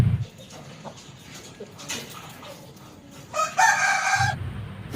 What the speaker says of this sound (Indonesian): Ada ayam babon, ada ayam jago.